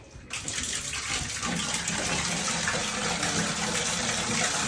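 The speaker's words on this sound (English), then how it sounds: "We turn the shower on." A bathroom shower is switched on and water gushes steadily onto the tub or tray, loud and close, with a continuous hissing spray that holds level throughout.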